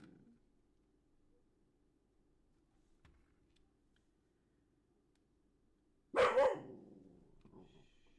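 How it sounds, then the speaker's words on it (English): A neighbouring dog lets out one sudden loud bark after a long stretch of near silence and low hum, followed by a fainter trailing yelp. "Yeah, my dogs respond to the call. The neighboring dogs."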